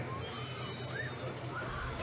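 A horse whinnies in the horse-riding video game Silver Buckle Stables, a brief neigh heard over a steady bed of game background noise, with faint hoof clip-clop mixed in.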